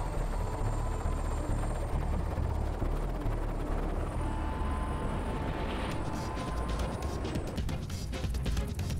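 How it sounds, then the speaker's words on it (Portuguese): A rescue helicopter running up close, its loud, steady rotor thump and engine whine continuous throughout, with rapid chopping pulses growing sharper near the end. "você está embarcando no helicóptero"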